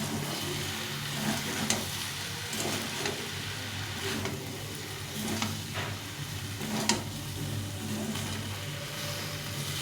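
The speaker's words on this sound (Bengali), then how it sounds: "এক চামচ জিরে গুঁড়ো আর এক চামচ লঙ্কা গুঁড়ো এটা দিয়ে ভালো করে কষিয়ে নেব" Fish, cumin powder and chili powder frying in a pan, a steady sizzle with soft stirring scrapes and occasional clinks, close and continuous.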